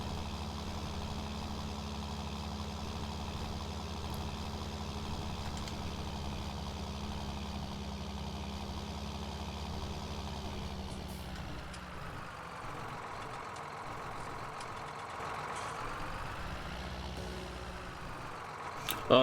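A tractor engine in Farming Simulator 19 runs steadily for the whole stretch, a loud continuous drone that strains and shifts in pitch partway through while hauling a heavy load.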